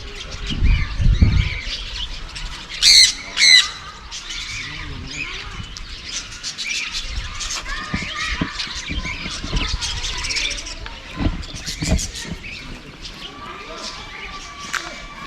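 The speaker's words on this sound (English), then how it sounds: "These are the birds, that is Chinese golden pheasant, then cockatoos are there" Birds at a deer park in Malda, including a Chinese golden pheasant and cockatoos, give sharp, shrill calls and scattered chirps, with a couple of loud squawks and rustling, while people talk nearby.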